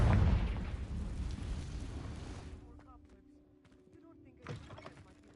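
Confringo fire blast spell in Hogwarts Legacy, a loud booming burst with a rumbling low-end tail that decays over a couple of seconds, then a smaller second thump.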